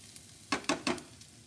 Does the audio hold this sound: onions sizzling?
yes